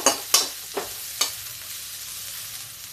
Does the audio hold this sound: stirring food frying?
yes